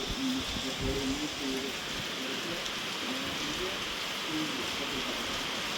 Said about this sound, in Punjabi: ਬਹੁਤ ਹੀ ਤੇਜ਼ ਬਾਰਿਸ਼ ਆ